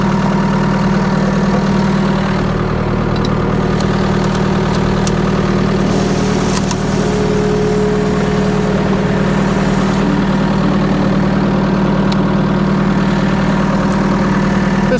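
A tractor engine idles steadily for the whole stretch, a constant low rumble with a mid-range drone, loud and close, with no talk.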